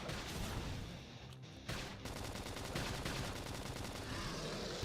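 Dense, continuous automatic gunfire fills a battle in the video game Xenoblade Chronicles X Definitive Edition, a loud rattling barrage with only a brief dip before it resumes at full intensity.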